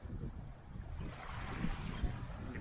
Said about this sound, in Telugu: చూశారుగా ప్లెజెంట్ సముద్రం